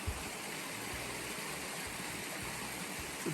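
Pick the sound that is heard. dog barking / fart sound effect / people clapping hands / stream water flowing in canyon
stream water flowing in canyon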